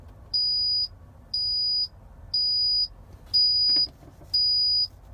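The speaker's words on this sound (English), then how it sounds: "the beeping is going to beep a little bit faster than what it's beeping right now" Air brake low-pressure warning buzzer on a truck sounding five steady, evenly spaced beeps, each about half a second long, loud and close over a low engine hum, with a brief knock partway through.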